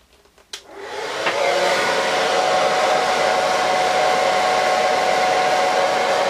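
A hair dryer switches on after a few handling clicks and spins up to a steady, loud whooshing roar on its hot setting, running alone and unbroken at close range.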